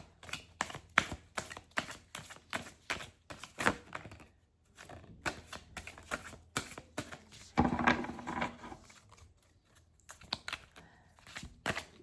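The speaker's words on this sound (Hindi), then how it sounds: "let me shuffle the cards again" Tarot cards shuffled by hand give a quiet run of crisp taps and flicks, with a denser riffling burst midway, close by and with no voices.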